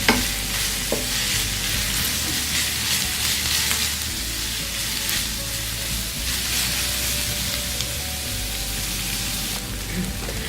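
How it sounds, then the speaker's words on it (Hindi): Onions are stirred with a spoon while frying in oil, giving a continuous close sizzle with soft scraping strokes and a low background hum throughout. "चम्मच के साथ प्याज को इस तरह से हम थोड़ा हिलाएंगे"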